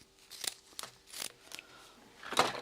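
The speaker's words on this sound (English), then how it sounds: "So I'm going to go ahead and cut my zipper tape a little bit longer than I need it to be." Scissors cutting zipper tape while sewing a messenger bag, a few separate snipping and rasping cuts in an irregular rhythm, close and fairly quiet, with no talking.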